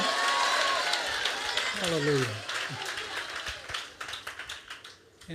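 A church congregation at a Tamil Christian service claps hands overhead, a dense, steady patter of many hands under a loud preacher's voice, thinning into scattered claps toward the end.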